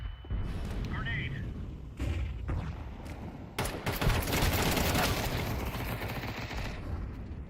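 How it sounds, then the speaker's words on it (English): A grenade blast in Counter-Strike 2 erupts as a loud broadband explosion followed by sustained crackling gunfire and rumble in a busy firefight, with a voice speaking briefly before the burst. "Grenade."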